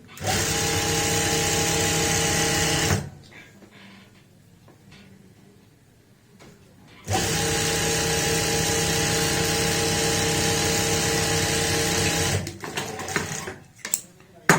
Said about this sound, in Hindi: इसी तरीके से सिलाई लगाते हुए दूसरे पोंचे को भी हम सिल लेंगे।